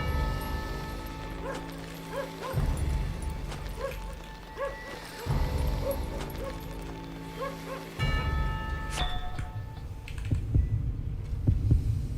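A slow, regular heartbeat thumps low in the Call of Juarez Gunslinger western shooter game. Several evenly spaced beats sit under game music and ambient hum.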